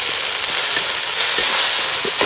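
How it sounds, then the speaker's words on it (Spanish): Beef searing in hot oil with a splash of soy sauce for tallarín saltado, a loud dense sizzle crackling steadily with a few faint stirring scrapes, close and constant without talk. "Primero vamos a dorar nuestra carne. Ahí está caliente nuestro aceite."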